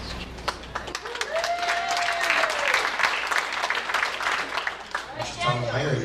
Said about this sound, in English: Clapping it up.